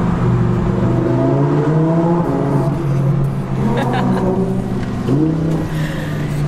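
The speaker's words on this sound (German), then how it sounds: "wenn man in so einem Auto sitzt und dann durch solche Tunnel fährt" A Lamborghini drives through a road tunnel, its engine droning loud and close with the tone rising and falling as it revs, the sound echoing, while people talk over it.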